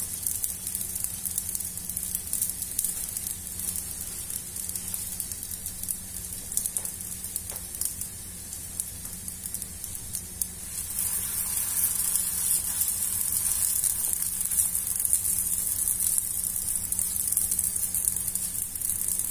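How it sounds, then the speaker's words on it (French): Stuffed mini batbouts cook gently in a pan over low heat, giving a soft, even hiss that turns slightly louder and brighter partway through, with no voices. "baissez le feu et posez vos batbotes, vos semaines, ça dépend de ce que vous allez faire. Laissez-les cuire tranquillement, doucement."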